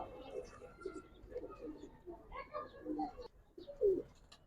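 Pigeons coo in soft repeated bursts, Giribaz and colored pigeons kept for sale, close by under steady talk from a man.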